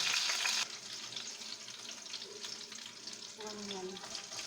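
Chili dropped into hot olive oil and frying in a pan, with a bright hissing burst at the start that settles into a steady crackling sizzle, close up, with faint clinks.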